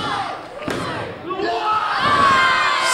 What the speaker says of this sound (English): Huge power bomb.